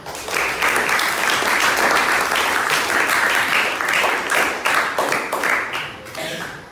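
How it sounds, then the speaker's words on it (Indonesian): Schoolchildren in an Islamic religious education classroom clap together in a lively, uneven burst of near hand claps that holds steady for several seconds before tapering. "tepuk tangan buat kita semua"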